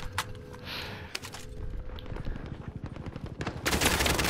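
Rapid bursts of automatic gunfire in a first-person shooter game, sharp cracks firing in quick succession, sparse at first and then building into a sustained volley that grows louder toward the end.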